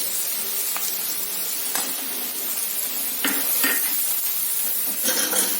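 Curry leaves and carrot go into a hot pan and sizzle. A continuous hiss runs under sharp metallic clinks and scrapes of a utensil against the pan.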